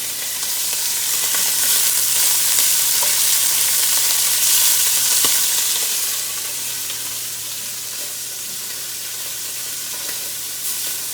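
Beef pieces sizzle steadily in a hot pan for beef stew, a continuous close frying hiss with occasional soft clicks and scrapes as the meat is turned, easing slightly toward the end.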